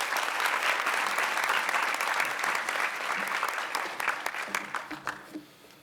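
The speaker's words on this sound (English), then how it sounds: "Round of applause for achievement in business and entrepreneurship, Gil Michael, ladies and gentlemen." An audience applauds an award winner recognized for achievement in business and entrepreneurship, with dense steady clapping that thins into scattered claps and fades near the end.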